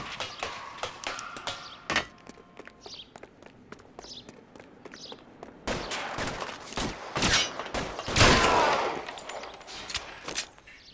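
Sharp gunshots in L.A. Noire crack out in scattered single reports and then a denser cluster of loud shots, mixed with footsteps and other game sounds.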